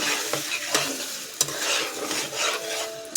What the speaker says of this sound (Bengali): মশলাটা ভালো করে কষার জন্য, তেলটা বেরিয়ে যাবে